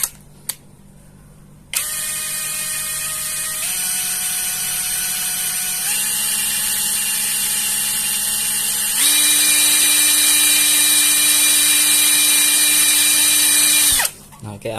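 An upgraded Dagmara D3301 cordless impact wrench runs free with a steady, high motor whine that steps up in speed several times over about twelve seconds before spinning down and stopping.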